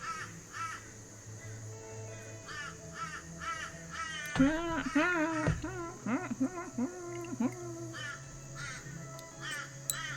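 Several crows caw loudly outside, harsh repeated calls overlapping in a noisy squabble, with a persistent background hum.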